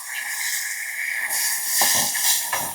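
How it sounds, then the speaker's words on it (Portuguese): Milk poured into hot melted caramel in a pan while making a warm drink, giving a loud, steady steam hiss with a few sharper sputtering bursts near the end. "adicionar o leite com cuidado, porque vai subir o vapor."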